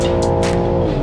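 A BMW M3 or M4 with 510 hp, driven hard toward its limit, roars in a loud, steady engine note with strong harmonics and brief bursts of hiss, close and continuous with no talk.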